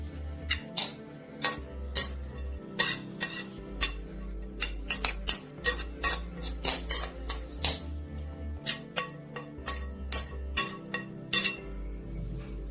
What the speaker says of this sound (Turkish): Kaşığımın arkasıyla tavama düzgün bir şekilde yerleştiriyorum.